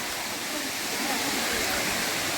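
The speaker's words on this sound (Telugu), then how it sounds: "మనమైతే వాటర్ ఫాల్స్కి అయితే రీచ్ అయిపోయాము" Talakona waterfalls near Tirupati, at Bhakarapeta, pour as a steady, dense rush of falling water, loud and unbroken, with a voice faintly underneath.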